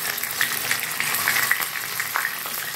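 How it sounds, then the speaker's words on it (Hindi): Chopped onions and garlic cloves fry in hot oil in a pan, giving a steady, close crackling sizzle with small pops throughout. "इन सबको हम अच्छे से फ्राई कर लेंगे गोल्डन होने से।"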